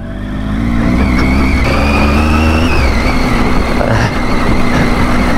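A motorcycle ridden over a gravel mountain road past a landslide gives a loud, steady engine drone with rising revs, mixed with rough crunching and wind noise, and no talking.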